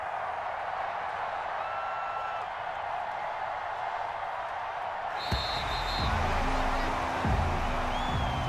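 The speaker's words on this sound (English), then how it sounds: "And the home crowd applauding." Home crowd applause and cheering in an American football video game, Lions at Giants, a broad steady roar that swells after a few seconds with bursts of whistles and a commentator's voice talking over it.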